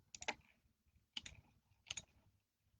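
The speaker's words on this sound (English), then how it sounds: "I'm typing that in" Three quick bursts of typing on a computer keyboard, short clusters of crisp key clicks separated by brief pauses, close and fairly quiet.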